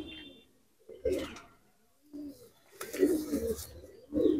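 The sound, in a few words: Malwai pigeons cooing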